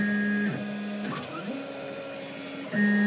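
An XYZ da Vinci 3D printer prints small plastic caps, its stepper motors whining in sustained tones that shift pitch as the head changes direction, steady and close over a low mechanical hum.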